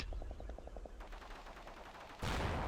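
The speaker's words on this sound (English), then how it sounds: "So we are getting a bit of mortar fire." Mortar rounds landing during a video game battle. A quick ticking rattle comes first, then a crackling stretch and a heavy low rumble of impact near the end, with no talk.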